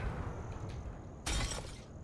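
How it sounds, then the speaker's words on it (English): Glass shatters in the aircraft-building video game Aviassembly after a landing, a sudden bright crash and tinkle that lasts about half a second over a steady engine-like drone. "We broke another glass?"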